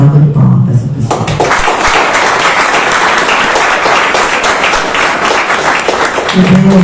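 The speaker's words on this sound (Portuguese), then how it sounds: "Então eu quero agora uma salva de palmas para essa pessoa." A live audience bursts into a loud, dense round of applause after a brief spoken moment, the clapping filling most of the stretch before a voice returns at the end.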